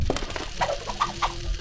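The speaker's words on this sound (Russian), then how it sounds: "Какая груда тут птиц." Cartoon chickens cluck in the video game Neighbours from Hell, giving a quick run of short, close, rhythmic clucks over about two seconds.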